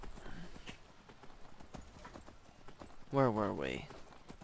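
A horse's hooves clip-clop in the video game Skyrim, a faint rhythmic clatter under a man's speech, followed by a louder close whinny near the end.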